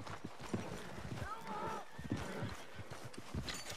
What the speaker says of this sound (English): the horses are just going crazy